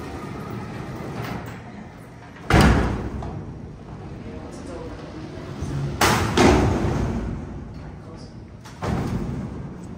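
An Otis freight elevator door operates with heavy thumps and sliding clatter at intervals, loud and close, with rumbling motion noise between and no talk.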